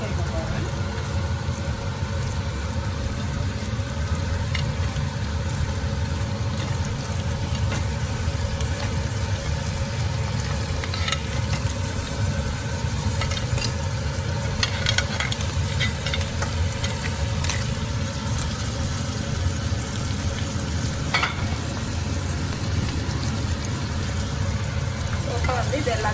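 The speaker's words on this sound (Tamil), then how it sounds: "இப்போ நான் வந்து நண்டை வந்து சேர்க்க போகிறேன்." Crab pieces sizzle and fry in a pan of gravy for a Mannar-style crab curry, with a steady, close crackle and scraping stirring that runs unbroken throughout.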